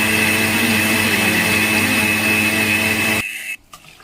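A mixer jar churns curd with water to separate butter, a loud steady motor whine with a sustained high tone that runs for about three seconds, then cuts off abruptly and is followed by a few faint clatters.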